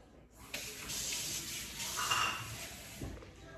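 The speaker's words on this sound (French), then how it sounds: "on rajoute 50 g d'eau" Water pours from a spout into lemon cake batter with chocolate chips in a bowl, a steady splashing stream starting after a brief pause and running close and moderately loud to the end, with no voices.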